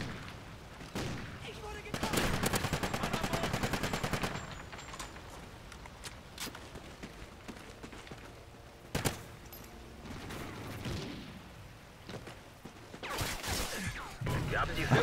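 Remington gunfire in Call of Duty Ghosts multiplayer, heard as several sharp shot bursts and a rapid volley among game effects and background noise.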